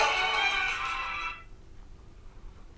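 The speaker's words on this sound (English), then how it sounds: "Your phone's ringing, mate." A mobile phone ringtone sounds close by as a steady, bright electronic tone for over a second, then cuts off abruptly, leaving only quiet room noise.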